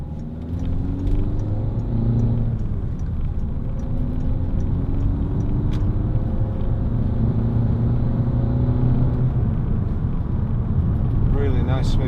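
A steady low engine hum and road rumble fill the cabin of a Peugeot 3008 1.6 HDi SUV while driving, with a faint rattle from a loose locking wheel nut in the glove compartment and a voice speaking over it.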